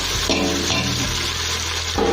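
Steady, dense sizzling of onions frying in a pan for mutton biryani, loud and close, with faint stirring scrapes and no voices.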